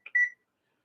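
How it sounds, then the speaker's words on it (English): A kitchen timer being set while baking homemade pizza gives a couple of short, close electronic beeps, then quiet. "So we're going to set the timer for 12 minutes."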